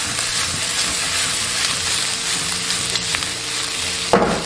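Green peppers with doubanjiang are stir-fried in a wok, giving a loud, continuous sizzle with scraping stir strokes and a sharp burst of hiss near the end.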